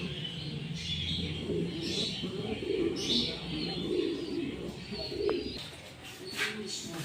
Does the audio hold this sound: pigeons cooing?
yes